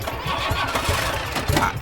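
A cartoon motorbike engine cranks and sputters in a rough, continuous rumble with a few uneven bursts, close and fairly loud.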